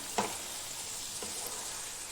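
Spice paste frying with cabbage in a pan gives a steady hiss of sizzling oil, with a couple of brief stirring scrapes near the start and middle.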